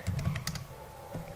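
Quick run of clicky keystrokes on a computer keyboard while entering a line command in AutoCAD, close and fairly quiet, with no talking.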